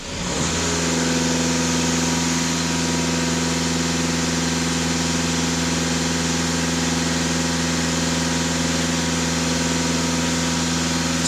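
A VW Golf 7 GTD diesel engine runs steadily above idle, a loud, continuous droning hum with fixed tone and no pauses, heard close up without talk.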